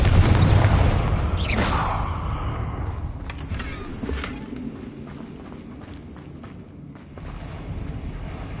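A Confringo blasting spell goes off in Hogwarts Legacy with a loud low boom at the start, then a sweeping whoosh and a rumbling tail, followed by scattered crackles and clatter over a steady game ambience.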